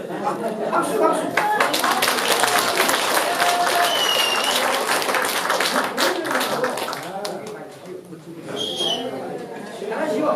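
An audience at a pansori performance bursts into sustained clapping, dense and lively, with a few shouts and a voice briefly heard as the applause tapers and picks up again near the end.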